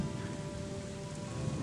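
Steady heavy rain pours down in the video game Gothic, a continuous even hiss of downpour that fills the whole moment with no voices.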